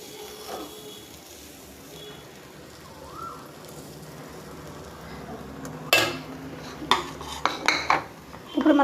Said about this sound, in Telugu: పెనం బాగా కాలినాక పెసరపిండి ఈ విధంగా వేసుకోవాలి